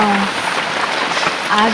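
Rain falls steadily over a mango orchard, a soft, even patter heard beneath people talking nearby.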